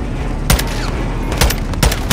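Weapons fire in the video game Call of Duty Modern Warfare 2: scattered heavy bursts and booms at irregular intervals, several loud impacts over a low rumbling background, with no talk.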